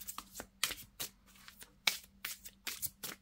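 Tarot cards being shuffled by hand, a series of about nine short riffling bursts at an uneven rhythm, close and soft, with quiet gaps between them and no talking.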